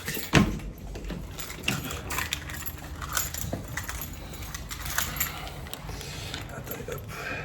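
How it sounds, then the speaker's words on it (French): Car keys jangling as they are picked up, a few loose metallic clinks and rattles, close and fairly quiet over soft background noise. "Je vais prendre les clés."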